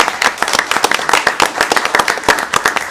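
An audience at a city council meeting claps in a dense, brisk burst of applause, many hands close and loud throughout the short stretch.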